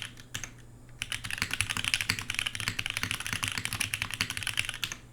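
Typing on a Matrix Lab 8xv 2.0 custom mechanical keyboard, a dense run of quick, close key clacks at a steady pace with a few louder strikes, heard alone throughout.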